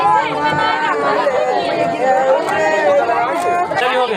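Dense crowd chatter at someone's tilak ceremony, a steady babble of many voices close around with shouts rising through it.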